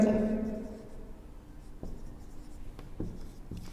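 Chalk or marker taps and scratches on a board during a physics class on motion, in a few soft, sparse strokes, faint and close.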